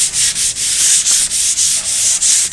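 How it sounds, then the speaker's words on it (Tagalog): Hand sanding of a surface primed with epoxy primer using 240-grit sandpaper, in preparation for varnishing, as a close, loud, rhythmic series of rasping strokes of roughly a quarter second each. "Nililiha po ng number 240 mga kasanay."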